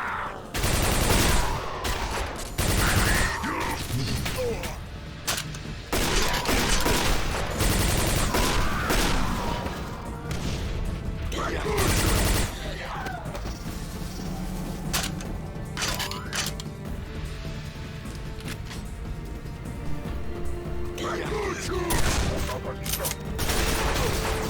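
Rapid shotgun blasts and gunfire in the PC shooter Quake 4, repeated sharp bursts in irregular clusters over a dense, loud game mix with music and effects, a voice talking at times.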